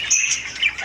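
Budgerigars chirp and tweet in a busy pet bird shop, a close, continuous cluster of high, bright calls overlapping through the moment.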